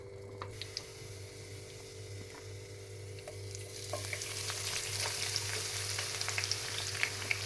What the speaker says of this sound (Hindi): सबसे पहले हम ऑयल लेंगे क्योंकि हमको प्याज फ्राई करने वाली है